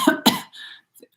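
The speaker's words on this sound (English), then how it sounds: "You guys need to cough." Two quick, close coughs at a light language healing session, the first sharp and the second hoarse with a raspy tail, then a brief faint throaty sound before silence.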